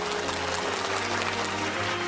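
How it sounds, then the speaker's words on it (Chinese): An audience applauds the winners of a Minnan-language singing contest at an awards ceremony, a dense steady wash of clapping filling the hall, with a low hum underneath throughout. "掌声送给我们的冠亚季军。"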